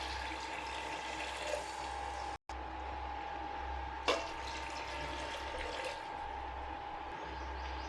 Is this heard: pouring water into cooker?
yes